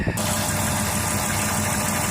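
A 2008 Dodge Caravan wheelchair-accessible minivan with a 3.3 V6 and 337k miles idles with its hood open, a steady, even engine rumble heard up close with no talking.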